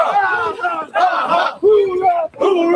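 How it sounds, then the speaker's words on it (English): A large crowd carrying American flags chants in unison behind U.S. Marines on a run through Central Park, loud rhythmic shouted bursts with short pauses between them. "U.S. Marines are leading a large crowd with American flags on the run through Central Park"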